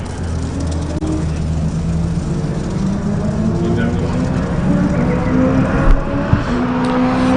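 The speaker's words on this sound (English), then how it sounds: "The Project Import S2000 going down the front straight in anger." Honda S2000 race car run by Project Import at speed down the front straight at Buttonwillow, its steady engine drone loud and continuous with a voice talking over it throughout.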